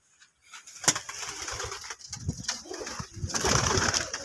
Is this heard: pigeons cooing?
yes